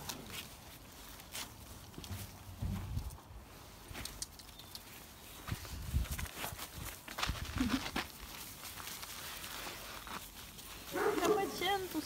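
Alabai puppies and dogs bark in scattered bursts, some close and some farther off, mixed with footsteps and a person talking.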